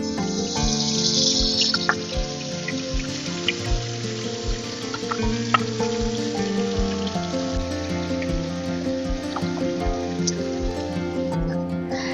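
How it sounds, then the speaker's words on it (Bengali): Onion, garlic and tomato paste sizzle in hot oil left from frying tarui river fish for a curry, a steady crackling hiss with scattered pops, close and continuous throughout, with no talking. "মাছ ভাজা তেলের মধ্যে দিয়ে দিচ্ছি পেঁয়াজ, রসুন,"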